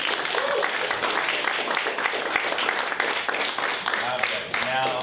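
Sustained crowd applause at a live improvised true crime podcast show, loud and dense throughout with whoops and voices mixed into the clapping.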